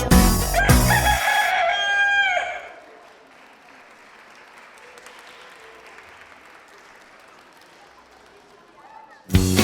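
A loud, close rooster crow fills the opening seconds at a children's dance stage performance, then fades into quieter hall ambience before a final loud burst.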